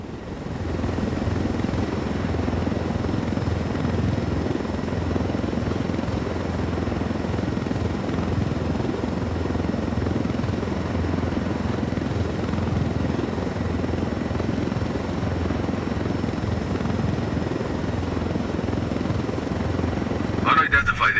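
A helicopter flies low through a canyon in Ghost Recon Wildlands, its steady rotor drone and engine rumble constant and close throughout, while voices speak over it.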